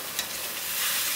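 Food being stirred in a kadhai over heat: a continuous hissing sizzle with scraping stir strokes, close and steady, no voices.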